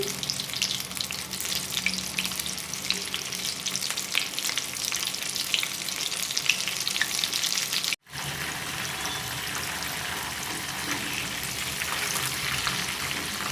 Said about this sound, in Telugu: ఆయిల్ హీట్ అయ్యాక ఇలా వేసుకొని ఫ్రై చేసుకోవాలండి.